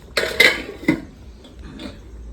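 A metal lid lifts off a cooking pot of simmering chicken with a few sharp clinks and clatters in quick succession, then a softer scrape, close by and without talk.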